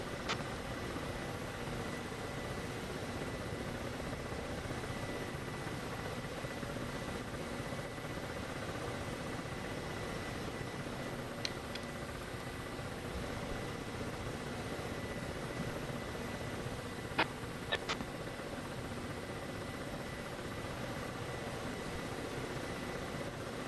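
A Ka-50 helicopter hovers in a flight simulator game, giving a constant low rotor drone and engine hum with a few faint clicks and no break in the sound.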